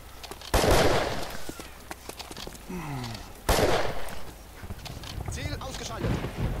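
Sniper gunfire in the World War II shooter Iron Front: two sharp, loud single shots a few seconds apart, each with a long rolling echo, while players talk over the game.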